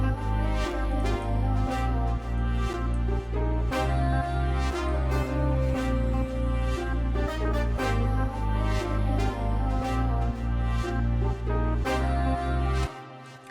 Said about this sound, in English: I use Kepler for the bass